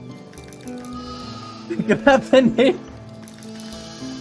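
Sheep in the village-building game Foundation bleat several times in a quick cluster of short wavering calls, loud and close, with a voice speaking briefly beforehand.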